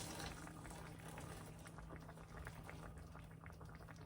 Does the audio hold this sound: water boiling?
yes